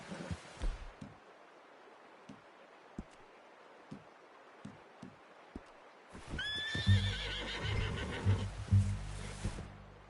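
Soft hoof clops and scattered thuds, then a horse in Red Dead Redemption 2 Online lets out a loud, shaky whinny, snorting and neighing for several seconds.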